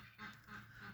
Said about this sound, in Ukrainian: Качки мене чують, це сигналізація.